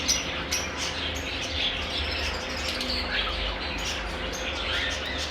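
Lovebirds, a breeder pair of a charcoal female and a grey pied male, chirp and tweet in short, high bursts over a steady low background hum, with no talking.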